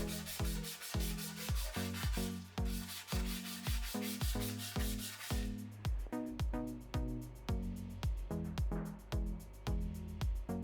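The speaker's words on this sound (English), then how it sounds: "Once the holes are ready, I sand and clean the surfaces with acetone." The metal surfaces of a heavily used custom fatbike frame are hand sanded in close, rhythmic back-and-forth strokes, roughly two per second, sounding alone and evenly throughout.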